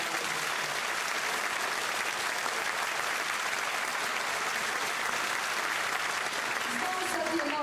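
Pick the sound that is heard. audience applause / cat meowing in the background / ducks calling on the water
audience applause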